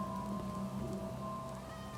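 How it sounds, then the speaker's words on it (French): Steady rain falls in the Minecraft video game, a continuous even hiss that holds across the full two seconds, with faint sustained tones humming underneath and no voices. "Ah mais il pleut."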